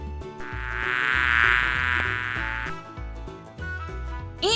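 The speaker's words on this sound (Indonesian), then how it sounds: "bee, Lebah." A bee's buzz swells loudly for a couple of seconds and then cuts off, heard over a steady, bouncy children's music backing track that continues after the buzz ends.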